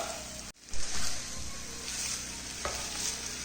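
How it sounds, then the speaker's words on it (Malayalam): Fish roe thoran mixture stirred in a hot pan, a spoon scraping and turning it over a steady soft sizzle of frying, with a sharp clack near the start and another scrape later. "നന്നായിട്ട് എല്ലാം കൂടി ഒന്ന് യോജിപ്പിച്ചെടുക്കാം."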